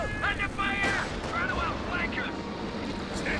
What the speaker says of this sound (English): Jackson fires a shot.